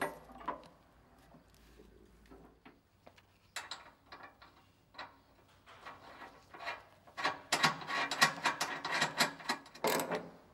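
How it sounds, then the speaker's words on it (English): A socket wrench ratchets as it tightens nuts during assembly of a TWIN BUSCH clear-floor car lift, with sparse clicks early, then a rapid, close run of ratcheting near the end and no talk. "Use if possible a long socket to tighten the nuts."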